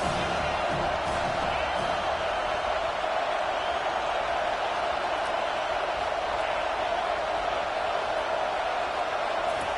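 A stadium crowd roars in an NCAA Football video game during a road game against Notre Dame, a dense, steady wash of noise that stays loud and unbroken throughout.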